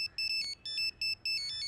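A mobile phone ringtone chimes for an incoming call in a repeating pattern of short bright electronic bursts with brief gaps, steady and fairly close, with no talking.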